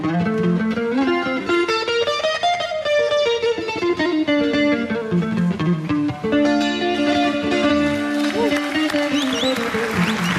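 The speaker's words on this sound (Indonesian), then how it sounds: "Bisakah Anda memainkan melodi Sunda?" A Sundanese melody is played on an instrument at a televised Indonesian dating show, a continuous, amplified tune with a distorted, effects-laden tone and sustained notes that carries loud and unbroken throughout.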